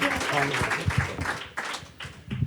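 Audience at a stand-up comedy evening applauding, a short burst of clapping mixed with people talking, close and moderate in level.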